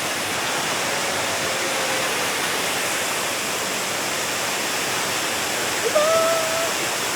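A muddy river swollen by recent rain rushes steadily in a forest near Tanay, a dense, unbroken roar of water with faint chirps piercing through near the end.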